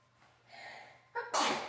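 A child sneezes once, close and loud: a brief breathy intake builds up, then a sharp explosive burst ends the short moment with no talking.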